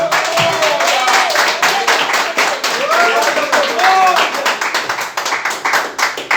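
A church congregation claps in a brisk rhythm with voices singing or calling out over the beat, loud and close.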